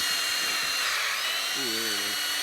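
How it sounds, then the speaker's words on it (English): A high, steady drill whine runs throughout as a tap hole is drilled into a maple tree outdoors, with a brief lower motor tone near the end and faint voices beneath. "You can see that light angle on the drill"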